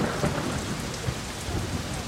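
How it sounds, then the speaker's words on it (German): Heavy rain pouring down steadily, a dense, loud, unbroken hiss of drops with no pauses. "Es regnet seit Stunden in Strömen."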